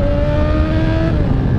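A Yamaha R6 sport motorcycle engine revs steadily and loudly up close, holding a high, even tone with a strong low rumble and no speech over it.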